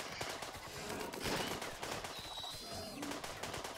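Rapid gunfire from colonists shooting at a Mega Scarab in the video game RimWorld, a dense burst of overlapping shots running steadily throughout with a high tone weaving through it.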